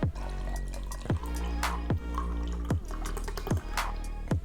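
Soju and beer mixed into somek splash and drip into a glass, a series of close, sharp liquid plops recurring at a quick regular rhythm over a steady low pouring wash, with no talk.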